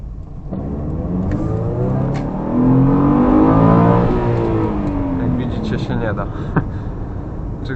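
A 2007 Subaru Impreza 2.0 with 160 HP revs up loudly while being thrown into a drift on an evening city drive. The engine note climbs, peaks midway and then eases off, with a voice audible over it.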